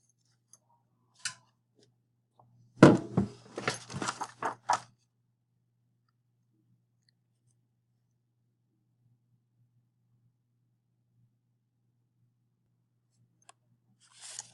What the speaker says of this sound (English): you're going to grab those scissors and go ahead and hack it